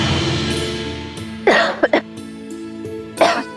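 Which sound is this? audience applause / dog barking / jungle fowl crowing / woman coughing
woman coughing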